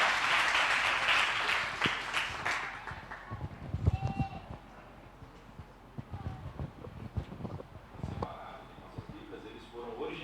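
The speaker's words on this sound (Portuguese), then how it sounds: "Você pode aplaudir o Senhor?" Congregation applause during a church service, a loud burst of clapping at the start that quickly thins into scattered claps, with voices and other noises following.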